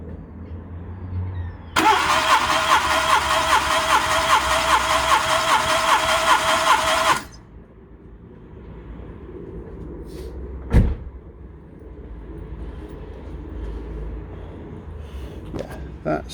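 A Renault Twingo Mk1 engine cranks on the starter for a compression test on cylinder 2, a loud, steady whirring drone lasting about five seconds that then cuts off to quieter background, followed by a brief sharp knock.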